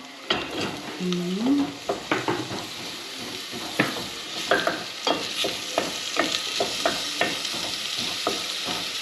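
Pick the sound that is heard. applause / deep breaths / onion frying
onion frying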